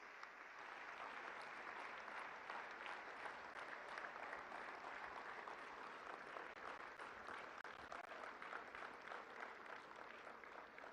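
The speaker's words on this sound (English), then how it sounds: "Modi ji, the architect of New India, for his address with a thunderous round of applause." An audience at the Global Ayush Investment and Innovation Summit gives the Prime Minister a long, steady round of applause that sounds distant and faint, a continuous wash of many hands with no talking.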